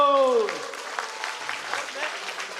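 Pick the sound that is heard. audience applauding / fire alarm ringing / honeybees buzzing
audience applauding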